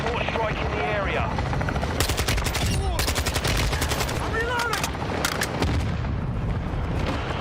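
A mortar strike in Call of Duty Warzone, with loud repeated blasts and heavy gunfire crashing together in a dense, continuous barrage amid battlefield noise and voices.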